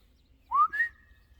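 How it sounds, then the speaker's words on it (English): A person whistles as a call in Pennsylvania woods, one short two-part whistle, a rising note followed by a higher sustained tone, clear and alone against quiet background. "I'm gonna do another whistle"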